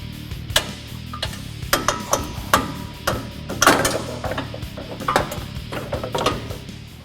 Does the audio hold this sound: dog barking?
no